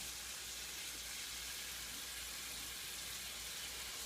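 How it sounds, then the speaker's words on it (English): Steady, quiet sizzling and crackling of jam in a frying pan, a continuous hiss with no pauses. "you hear all the sizzling of the jam coming out"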